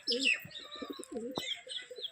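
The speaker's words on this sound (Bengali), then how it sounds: "আমাদের সব পায়রাগুলো ছাড়া হয়ে গেছে বাইরে" Several pigeons coo in low, throaty bursts nearby, overlapping with a few brief higher chirps, fairly quiet and alone.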